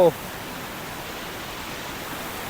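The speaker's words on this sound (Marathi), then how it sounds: "हा बघा फुल फोर्समध्ये पाणी व्हावता" Floodwater rushes at full force after heavy monsoon rain in Konkan, a steady broadband roar that continues without a break after a brief initial sound.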